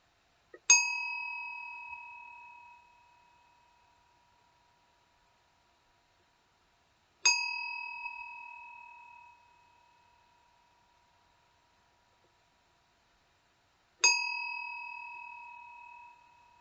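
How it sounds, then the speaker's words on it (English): A meditation bell is struck three times at even intervals, each clear ring sustaining and slowly fading into near silence before the next, with nothing else audible at the close of a guided body-sweeping meditation. "So I will ring the bell to end the meditation"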